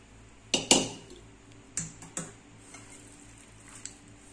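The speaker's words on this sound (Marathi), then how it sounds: "यानंतर हा मसाला आपल्याला या भोकरांमध्ये मिक्स करायचा आहे" Spice masala being mixed into bhokar berries for pickle, heard as a few sharp clinks and clatters of utensils against a bowl, two close together then a few softer knocks, in a quiet room with no talk.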